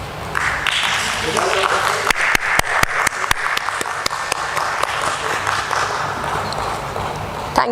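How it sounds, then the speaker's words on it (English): An audience at a stock exchange listing ceremony for NMDC Steel Limited applauds steadily, with a dense wash of clapping, sharp individual claps standing out, and voices underneath. "Please welcome them with a round of applause"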